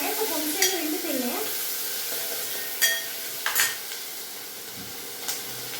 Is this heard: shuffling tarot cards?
no